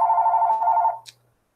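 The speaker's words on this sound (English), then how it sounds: "The phone again." A telephone rings once with a loud, sustained electronic tone that cuts off sharply, then quiet.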